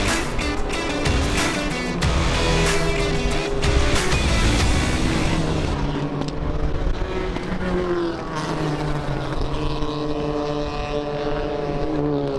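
A race car in a 25-hour endurance race roars loudly at close range with a wind-blown engine drone that shifts pitch as it accelerates, then settles into a steadier, slightly softer engine tone.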